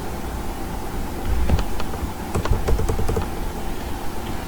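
Close computer keyboard typing sounds as a short burst of clattering keystrokes in the middle, set against a steady background hiss.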